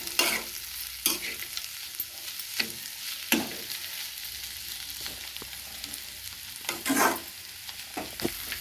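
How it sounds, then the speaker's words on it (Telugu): Flat beans coated in spice powder being stir-fried in a pan, with a steady low sizzle and irregular scraping spatula strokes, several louder scrapes standing out near and clear, no talk. "పొడి అంతా బాగా పట్టేటట్టు బాగా నీట్గా కలుపుకోవాలి చిక్కుడుకాయలకి బాగా పట్టేటట్టు కలిపేసుకోవాలి"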